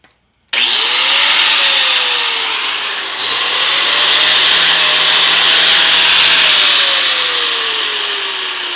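A die grinder with a long trigger starts abruptly and runs at a loud, high-pitched whine with shifting pitch, briefly dipping and then resuming, close up and alone.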